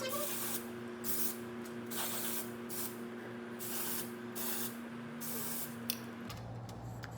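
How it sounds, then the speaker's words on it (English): An r+co Death Valley dry shampoo can sprays onto hair roots in a series of short, close hissing bursts separated by pauses, with no talking over it. "I'm gonna dry shampoo my roots"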